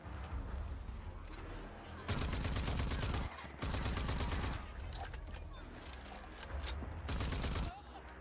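Bursts of rapid, loud gunfire from a pistol in the shooter RAGE 2, arriving in several separate volleys with quieter game noise between them.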